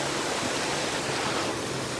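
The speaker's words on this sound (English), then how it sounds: "So we're at the waterfall here in the backyard" A backyard waterfall pours in a steady, dense hiss and rush of falling water, close and constant throughout with no talking.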